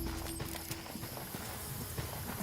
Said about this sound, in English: all of a sudden you hear horses coming on towards the mountain